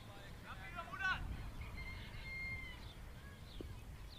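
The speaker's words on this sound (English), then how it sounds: "there's a cockerel here that doesn't quite know what time of day it is" A cockerel crows at a cricket ground, a faint distant call rising and falling over a low background murmur, with a few further brief bird calls after it.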